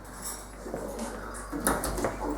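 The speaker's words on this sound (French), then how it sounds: "Enfournez le moule dans un four à 180 degrés pendant plus ou moins 30 à 35 minutes" A metal cake pan clanks and scrapes as it slides into a home oven set to 180 degrees, a few close, light metallic knocks and a rattle of the rack without any talk.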